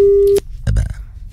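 A telephone line tone sounds as a steady single beep at the start, then cuts off as a voice begins talking over a radio morning show.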